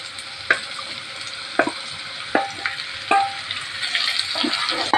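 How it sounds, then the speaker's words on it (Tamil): Bitter gourd sautés in hot oil in a pan with a pinch of turmeric, a steady sizzle broken by several sharp scrapes and clacks as it is stirred every second or so. "நல்லா எண்ணெயில் வதக்கி விட்டுடலாம்"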